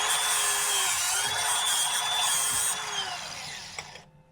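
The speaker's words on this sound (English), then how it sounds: "I'll just get in here and grind the axle quick." A grinder bites into the axle of a 55 Chevy with a bright, high-pitched whine held for nearly three seconds, then spins down and fades out with a few clatters.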